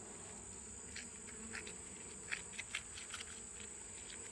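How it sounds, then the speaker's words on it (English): Honeybees crawling on a pollen patty in a nucleus hive, a faint steady buzzing hum with soft scattered ticks and crackles, quiet and close, no voices. "Those 2 bees won't get off of that patty."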